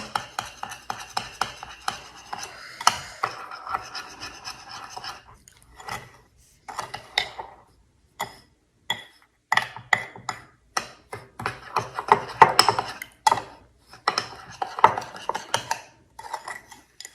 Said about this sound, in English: Mix it as well as possible.